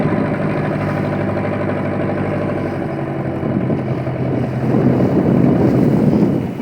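A motorboat engine drones steadily up close with wind buffeting the microphone, the rumble shifting and swelling slightly toward the end as the boat slows near a dock off Lemukutan Island, West Kalimantan.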